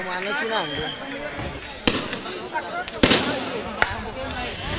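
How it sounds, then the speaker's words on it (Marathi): Fireworks and firecrackers set off to welcome guests at a Dahi Handi festival gathering, with sharp loud bangs at irregular intervals under continuous announcer talk and crowd noise. "फटाक्यांच्या आतषबाजीत आपण त्यांचं स्वागत करतो या ठिकाणी."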